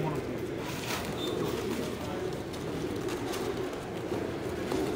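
An old German Owl pigeon coos softly at an indoor pigeon show amid a constant hum of background noise and distant murmuring from the crowd.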